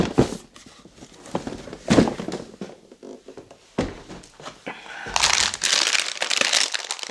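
A message lollipop being unwrapped: crinkly plastic wrapper rustles and soft handling thumps come in separate bursts, ending in a longer, louder stretch of crinkling close by.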